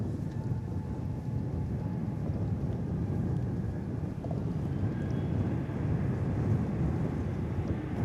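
An American Airlines jet takes off from runway 18 left at Dallas/Fort Worth Airport, a steady, deep, wide roar heard from a distance, with rumbling wind-like noise throughout.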